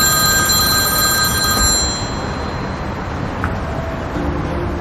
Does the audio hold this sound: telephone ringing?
yes